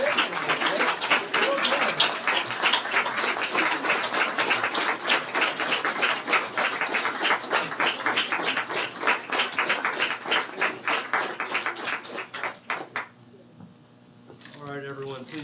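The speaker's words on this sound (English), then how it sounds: "please take a moment to give one final round of applause to Judge Aikens" A large audience gives sustained, dense applause for retiring Judge Aikens at a Leon County Courthouse retirement celebration. Steady clapping fills about thirteen seconds, then thins to a few scattered claps.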